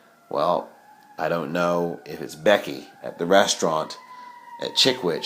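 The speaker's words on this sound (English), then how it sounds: "I can tell you that siren gets louder here and louder by the very moment." An emergency vehicle siren wails faintly and steadily in the background, a thin sustained tone under continuous close talking.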